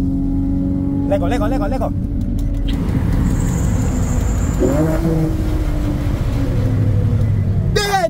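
A race car accelerates hard at full throttle, its engine a loud, steady drone that fills the whole stretch while people talk and shout over it.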